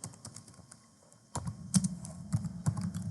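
A name is typed on a computer keyboard in soft, close key taps. They start faint and sparse, then a firmer, slightly irregular run of clicks follows over low background noise.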